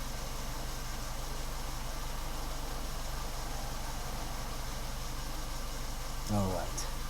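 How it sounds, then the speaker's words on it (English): Car engine idling steadily at low volume, a constant hum with no change in pitch, and a brief clunk near the end. "the engine is still running, yeah?"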